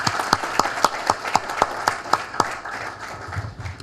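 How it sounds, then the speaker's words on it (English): Audience applause at a conference on India-Pakistan trade, with crisp, evenly spaced claps close by over a softer crowd clapping that thins out toward the end. "let's give him a big round of applause"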